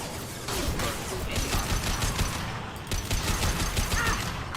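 Rapid automatic gunfire crackles through a Mass Effect 2 firefight, a loud, sustained stream of shots with brief dips and no speech over it.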